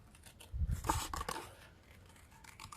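A quick snip or two of scissors cutting paper while making a stamped rose card, a soft, close crunching cut in an otherwise quiet room.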